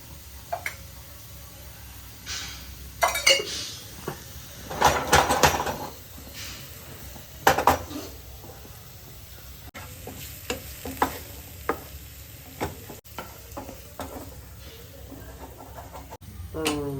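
Oil being added to a pan and food frying, with scattered stirring clatter and bursts of sizzle over a low background; faint voices are present and a rooster's cluck may be heard at times.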